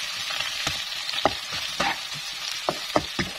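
Onion sautés in a little oil with a bright continuous sizzle, punctuated by several sharp clicks and scrapes of a utensil stirring close by.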